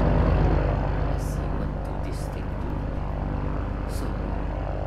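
Heavy bomber plane flying in a video game, a steady droning engine rumble with low pulsing tones that stays loud and continuous throughout, with faint high whooshes above it.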